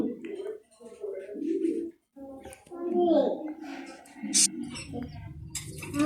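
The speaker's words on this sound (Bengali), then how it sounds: "সবাই দেখে নিন আমার কবুতরগুলা" Pigeons on a pigeon farm coo in low throaty bursts nearby, with brief chirps and rustling between them.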